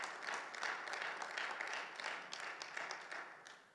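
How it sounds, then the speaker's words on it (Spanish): A church congregation claps in praise, a faint, steady patter of many hands lasting a few seconds before tapering off at the end. "Démosle un aplauso al Señor."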